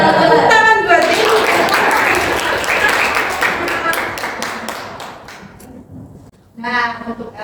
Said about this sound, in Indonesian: Tepuk tangan buat Deni.